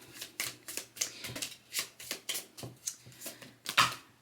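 A deck of cards is shuffled in quick rhythmic riffles and soft slaps, close and fairly quiet with no talk, for a weekly card reading.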